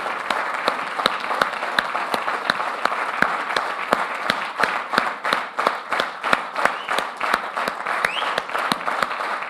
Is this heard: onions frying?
no